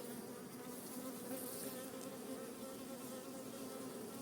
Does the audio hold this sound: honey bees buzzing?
yes